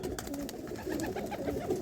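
Pigeons kept by a pigeon fancier coo steadily in a low, throaty way, with several soft calls overlapping in a continuous murmur close by and no talking.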